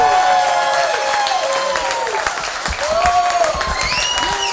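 Loud audience applause and cheering fill a comedy fundraiser at a restaurant as one comedian leaves the stage, dense clapping throughout with whoops and shouted voices rising over it.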